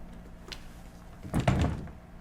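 Rattling and knocking of a locked drawer being tugged but not opening: a small knock early, then a louder burst of jiggling clunks and bumps near the mic in an otherwise quiet room.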